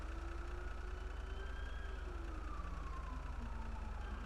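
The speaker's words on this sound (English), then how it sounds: "Is it the fire truck that I hear?" Fire truck siren in GTA, a faint, distant wail sweeping slowly up and down over a steady low engine rumble, with no talk.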